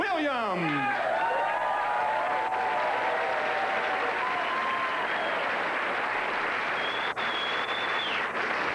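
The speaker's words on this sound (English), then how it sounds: "Please welcome with a warm round of applause" Audience applause with some cheering and whoops welcoming a comedian onstage, a loud continuous wash of clapping filling the whole stretch, with a voice audible at the start.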